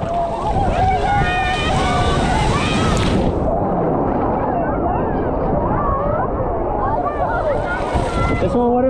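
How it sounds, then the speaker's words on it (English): Ocean waves wash and churn at Cocoa Beach, Florida, amid heavy wind buffeting the microphone, with a voice talking over the rushing water. "look at all these big waves now"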